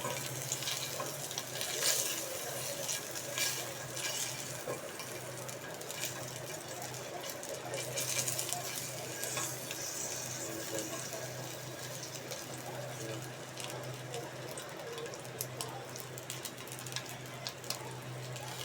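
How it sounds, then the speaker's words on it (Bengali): Chicken balls frying in hot oil: a steady, even sizzle and crackle runs throughout at moderate level, with a low hum beneath and no talking. "এই পাঁচটা বলকে আমি এখন ভালো করে একটু লাল লাল করে ভেজে নিব"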